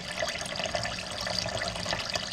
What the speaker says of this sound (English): we're just going to run some filtered cold water from our Brita filter